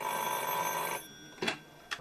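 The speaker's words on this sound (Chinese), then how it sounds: "接下来呢，我们来接听今天的第一通电话" Telephone ringing with an incoming call on a late-night call-in talk show, one sustained electronic ring tone lasting about a second, followed by two brief soft clicks as it cuts off.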